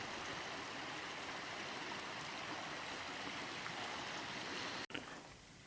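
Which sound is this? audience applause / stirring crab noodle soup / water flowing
water flowing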